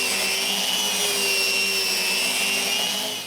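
A power sander working wood panels up to 120 grit in a workshop, a loud continuous whine with steady tonal hum that tapers slightly at the end.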